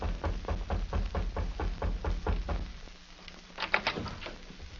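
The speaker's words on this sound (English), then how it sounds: "and rapped on the door." Knuckles rap on the wooden door of a small frontier house, a fast run of about a dozen firm knocks followed by a brief clatter, close and clear.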